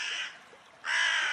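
A crow caws twice, two harsh, fairly faint calls separated by a short pause.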